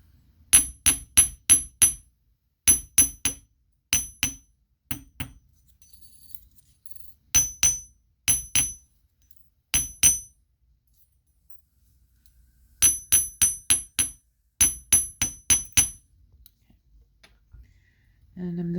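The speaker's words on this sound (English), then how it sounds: "I'm going to just hammer everything flat" Small brass stars taken off warped jump rings being hammered flat on a hard surface, in bursts of quick, bright, ringing metallic taps, three to five per burst, separated by short pauses, close and fairly loud.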